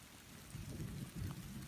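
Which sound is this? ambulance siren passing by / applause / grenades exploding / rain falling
rain falling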